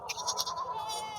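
A goat at a busy goat market in Sahiwal district gives one loud, wavering bleat close by, lasting about a second over low background murmur.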